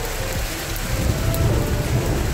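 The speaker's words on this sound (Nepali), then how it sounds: "यस्तो पानी पर्दा छ" Heavy rain pours steadily onto a road in Nepal, a dense, continuous wash of sound with low rumbling underneath, close and loud, with no talking.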